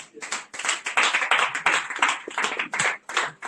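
An audience at a Wikimedia community meeting claps for a returning contributor, a scattered run of hand claps through the whole stretch with a voice talking over part of it.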